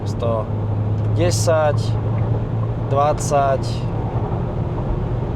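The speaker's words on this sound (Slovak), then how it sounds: "Teraz si už auto podradilo pekne a zrýchlujeme." A Toyota Proace Verso van accelerates on a highway after a downshift, a steady engine drone and road roar filling the cabin while someone speaks over it.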